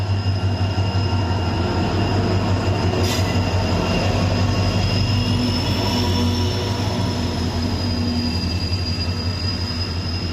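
A train rumbles steadily through Kamareddy railway station close by, its wheels squealing in a high, sustained whine over the continuous clatter of the cars.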